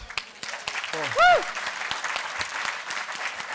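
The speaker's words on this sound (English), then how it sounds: "So please applaud." An audience at the IDFA 2019 awards ceremony applauds in a steady patter of clapping, with a brief whistle-like tone sweeping up and down partway through.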